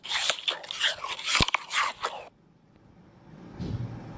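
Someone bites into an apple, a burst of loud close crunches for about two seconds, then near silence with a faint low rustle.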